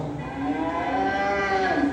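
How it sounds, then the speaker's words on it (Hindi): A cow gives a long, drawn-out moo, close and clear, rising and bending in pitch over about two seconds with no speech. "देखो गैया, गैया देखो गैया"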